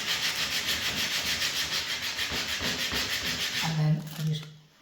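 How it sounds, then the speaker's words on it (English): Sandpaper rubs rhythmically along the edges of an MDF skirting board in quick, even back-and-forth strokes that stop near the end, leaving a brief low hum. "I just take a little bit of sandpaper now and just smooth off the edges"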